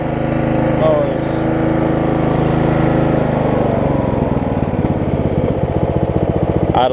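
A Craftsman LT1000 riding lawn mower engine runs steadily and loud, close by, then settles into a lower, even idle with a rhythmic putter toward the end.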